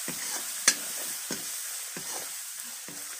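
Goat meat with onions and spices is stirred in a pan, with a soft continuous sizzle and several scraping strokes of the spoon at a slow, regular pace, close by.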